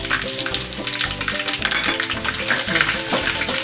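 Onions, curry leaves and green chillies fry in a pan for a Rayalaseema fish curry, giving a loud continuous sizzle and crackle with rhythmic stirring and scraping of a spoon close up.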